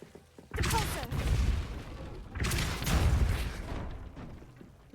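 Wizards cast the Depulso force spell in Hogwarts Legacy. Two heavy whooshing blasts, each with a low thumping rumble, follow one another a couple of seconds apart at moderate volume, with no speech over them.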